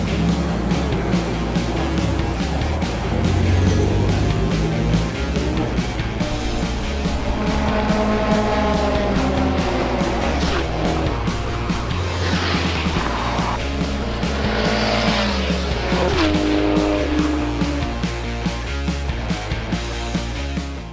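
A race car runs on a track during a tuning session, its engine droning loud and continuous with rising and falling revs as it passes, steady throughout.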